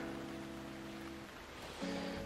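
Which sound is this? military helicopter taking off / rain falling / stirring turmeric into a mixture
rain falling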